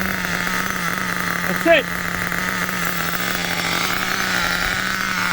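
The nitro engine of an old-school HPI Nitro MT2 RC truck idles loudly and close by in a steady, buzzing drone, with a brief spoken remark over it.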